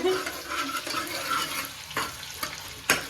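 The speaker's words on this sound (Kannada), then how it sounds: "ಗೋಲ್ಡನ್ ಕಲರ್ ಆಗೋವರೆಗೂ ಫ್ರೈ ಮಾಡ್ಕೊಳ್ಳಿ ಸ್ವಲ್ಪ ಇದರಲ್ಲೇ ನಾರ್ಮಲ್ ಆಯಲ್ ಹಾಕ್ಕೊಳ್ಳಿ" Food fries in ghee and oil in a pan until golden, a close, continuous crackling sizzle mixed with stirring scrapes and a sharper clatter near the end.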